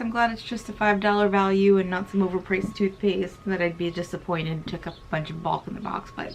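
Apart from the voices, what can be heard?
None of the usual background noises is heard.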